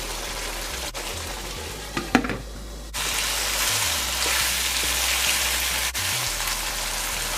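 Chicken giblets, liver and heart cook in a covered pot, a steady hissing sizzle broken by a short clatter and a sudden drop, then a fuller frying hiss resumes, with no voice.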